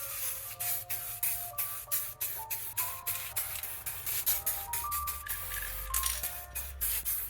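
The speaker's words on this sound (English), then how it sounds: "After I've sprayed everything I can see" Spray primer is applied to a 3D-printed karambit in a string of short, rhythmic hissing bursts, close and steady, over soft tonal background music.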